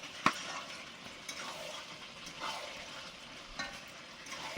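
Cauliflower fries in a pan for a khichuri, a quiet sizzle with occasional stirring knocks and clinks.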